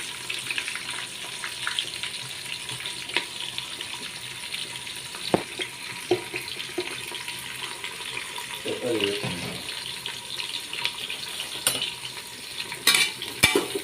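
Three-quarters of a kilo of onions with green chillies sizzle and get stirred in a pot for mutton biryani, with a soft continuous fry and scattered scraping clinks of a spoon, plus a few louder knocks near the end.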